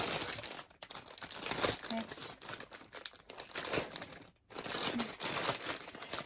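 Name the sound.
crinkling glossy paper pattern sheet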